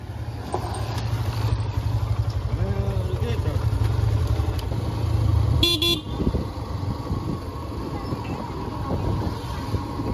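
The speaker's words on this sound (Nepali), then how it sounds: "भर्खरै बाइक निकालिरहेछ" A motorcycle engine runs continuously with a low, steady drone, joined by traffic noise and a brief horn toot midway, while voices talk over it.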